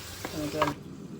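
Tomatoes sizzle in oil with garlic in a pan while being stirred, a short soft burst of frying and scraping that fades after under a second.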